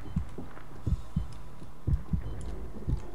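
A heartbeat from the video game Dead Space 3 thumps steadily in close, muffled double beats, low and prominent against a faint hum with no speech.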